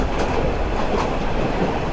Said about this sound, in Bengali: ট্রেন স্লো হয়ে গেল এবার